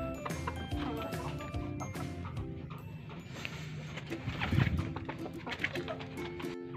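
A hen clucks in agitation, frightened by a rooster, with a run of short, overlapping bird calls close by over low background noise.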